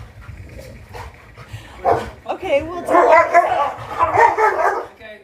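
Dogs bark and yip repeatedly at close range in a home, the noisy bursts building and overlapping, with a person speaking briefly over them.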